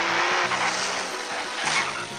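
Cartoon race car speeding along with squealing tires, engine drone and skidding filling the short stretch at steady loudness, no voices over it.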